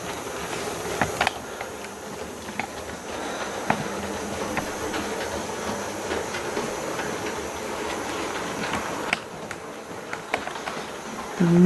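A Hornby 28XX model steam locomotive runs on its track with a continuous whirring motor hum and small clicks over the rail joints, steady and close throughout.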